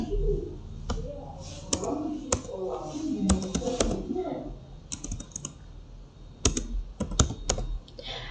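Someone types a formula into a spreadsheet on a computer keyboard. Sharp keystroke clicks come in irregular bursts and single taps, close to the microphone, with a faint voice in the background.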